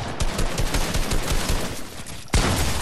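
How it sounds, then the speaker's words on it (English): Dense, rapid gunfire from many directions in a Fortnite match, a sustained barrage of shots with a sharp loud burst near the end. "I'm getting shot at by everybody"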